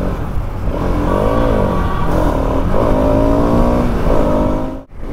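A KTM Duke 250 motorcycle engine revs while riding, its pitch rising and falling in loud sweeping tones over steady road rumble, with a sharp buffeting burst near the end.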